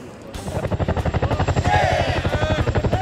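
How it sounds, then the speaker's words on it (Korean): A Chinook military helicopter approaches overhead with loud, steady rhythmic rotor thumping that swells after a quieter start; a voice speaks faintly beneath the chopping. "자, 이제 상공에서 시누크 헬기가 가까이 오고 있는데요."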